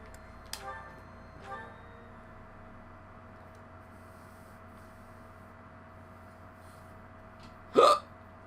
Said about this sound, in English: Hiccups, apparently.